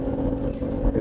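BMW X6 40i with its smooth inline six engine accelerating hard, a deep, steady, close engine roar that holds loud for the whole brief moment.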